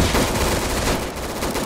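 Rapid gunfire while shooting zombies in a video game, a dense continuous rattle of shots that stays loud and steady through the short burst.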